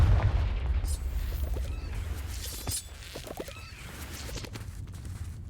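A fiery Confringo spell blast in the Hogwarts Legacy video game lands as a deep, rumbling boom that is loudest at the start, then decays into a low roar with scattered crackles.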